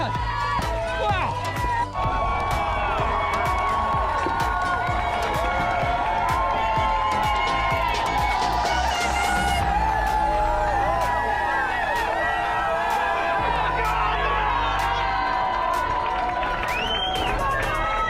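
Loud, dense crowd cheering and whooping line the London Marathon course at a roadside cheer station, a continuous roar with shouts and claps heard close by a passing runner, with occasional talk over it.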